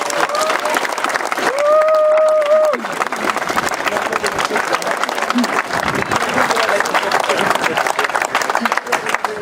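Audience applause at a speech about the Atlantic Challenge contest, a sustained crowd clapping throughout with a brief tonal whistle-like sound early on.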